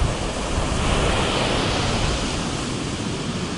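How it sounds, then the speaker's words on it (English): Waves crash against rocks at a beach in a loud, continuous roar of surf with wind noise, no breaks or voices. "Look at these waves crashing on the rocks"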